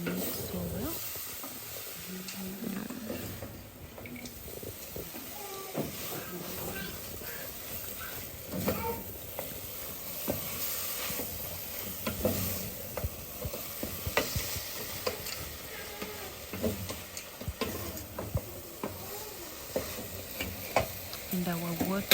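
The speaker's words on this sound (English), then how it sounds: "we add our omena inside, and yeah, we keep stirring until they mix so well" Omena being stirred with onions and carrots in a pan, with a soft, steady sizzle and continuous scraping and stirring rustles, fairly quiet and close, with no talk.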